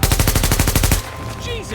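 A robot gun turret in The Division fires a rapid, loud burst of about a dozen evenly spaced shots, then stops abruptly, leaving faint background game sounds.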